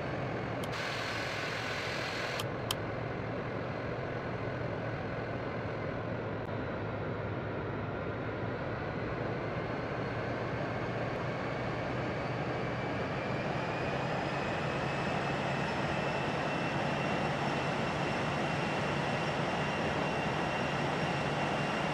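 Air France Boeing 747-400 takeoff roll in a flight simulator, departing Paris Charles de Gaulle: a loud, continuous jet engine roar that holds steady with rising whining tones as the airliner accelerates down the runway.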